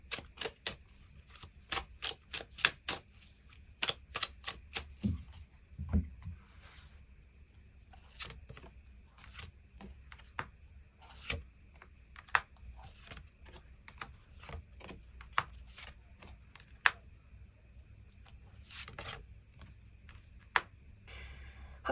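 Tarot cards being shuffled and drawn during a love reading, a long run of crisp, close card snaps and taps at an irregular rhythm with almost no talk.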